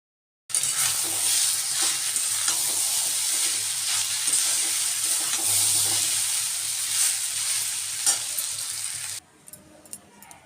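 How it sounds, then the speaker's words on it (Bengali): Potato and onion fry for chowmein, with a loud, steady sizzle and the repeated scrape of stirring that starts abruptly and runs for about nine seconds before cutting off to quieter background. "একটা আলু দুটো পিঁয়াজ দিয়ে একটু ভালো করে ভেজে নিচ্ছে"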